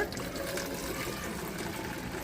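Homemade ajwain water pours from a glass into a bottle, making a soft continuous trickling and filling sound that stays fairly quiet throughout.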